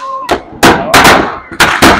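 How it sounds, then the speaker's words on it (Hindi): Diwali firecrackers burst loudly and close by, seen from a hillside home, with four sharp bangs in quick succession over about two seconds. "जैसे पटाखे चलते हैं तो देव डर जाते हैं।"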